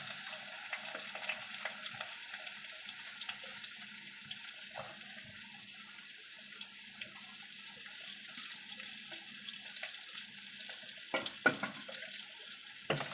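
Thinly sliced onions with a few mustard seeds frying steadily in a pan at home, a soft continuous sizzle with occasional faint clinks and a couple of sharper knocks near the end.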